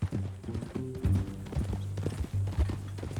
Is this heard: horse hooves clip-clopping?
yes